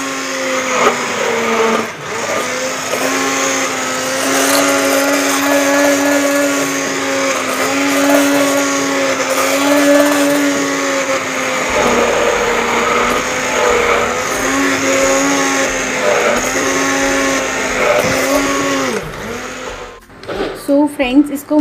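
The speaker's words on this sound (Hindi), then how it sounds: "उसके अंदर मैंने मलाई डाली है और अब मैं इसको ग्राइंड कर रही हूँ" Electric blender whipping cream (malai) in a bowl set inside a second chilled vessel, its motor holding a loud, steady whine close up for about twenty seconds before dropping off with a few rattling bumps.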